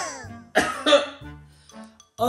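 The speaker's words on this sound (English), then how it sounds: "I had a cough" A person coughs sharply a few times, close and loud, with brief pauses between coughs.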